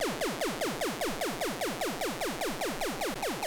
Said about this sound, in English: Next up is a tonal riser